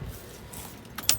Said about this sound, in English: But grab the keys.